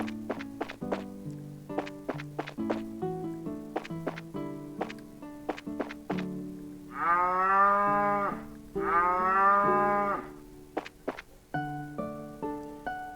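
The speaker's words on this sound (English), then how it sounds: "Those are some happy cows, man." Cows in the video game Trails in the Sky FC give two long, loud, drawn-out moos in the middle, surrounded by a bouncy, plucked melodic background tune with no talking.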